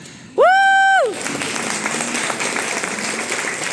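A brief bright sustained tone is followed by a steady bed of audience applause, many hands clapping at moderate loudness.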